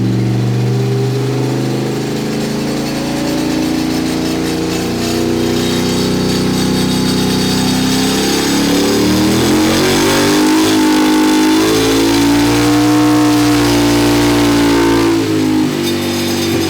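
Nitro methanol turbo 670cc drag rail engine revving hard on a dyno, a loud sustained roar that climbs and swells in pitch, close and continuous throughout with no talking.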